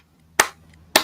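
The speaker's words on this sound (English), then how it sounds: "absolutely give that a clap. Give that a clap in hand." Two sharp hand claps, close and loud, about half a second apart in an otherwise quiet room.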